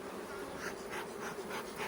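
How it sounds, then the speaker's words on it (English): Honey bees buzz inside a hive box in spring, a soft, continuous hum with gentle pulsing swells, heard close and alone. "a box full of bees"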